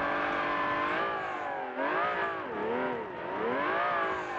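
An old Ferrari mod in BeamNG.Drive roars at high revs as its wheels spin, the engine note wavering up and down in pitch, loud and close, with no voices.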